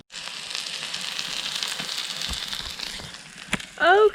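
Charcoal coals being lit for a makeshift pizza oven at a campsite, giving a steady crackling, hissing burn with scattered sharp pops, and a brief rising chirp near the end.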